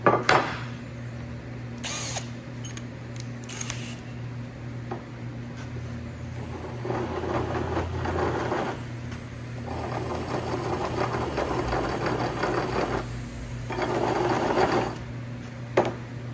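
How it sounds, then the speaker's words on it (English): A cordless drill spins a large bit to deburr holes in stainless steel for a welding fixture table, whirring in several bursts of grinding, with a steady mechanical hum underneath and short pauses between passes. "You can use a big drill bit if you have it."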